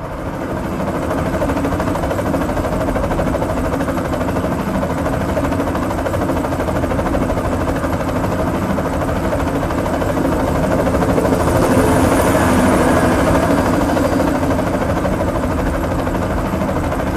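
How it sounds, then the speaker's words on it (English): Airborne helicopter gunships approach in the video game BloodRayne 2, a steady, dense rotor-and-engine drone that swells slightly louder toward the end, with no talk over it. "Threat approaching from the south. Airborne gunships, my lord."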